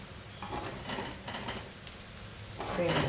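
Chicken fried rice with carrots and vegetables being turned and stir-fried in a pan, a soft continuous sizzle with scraping strokes of a spatula, moderately close and fairly quiet, swelling louder toward the end.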